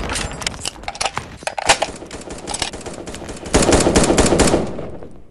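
Rapid bursts of gunfire from the online shooter game 1v1.LOL, sharp repeated shots in quick clusters, growing denser and louder toward the end.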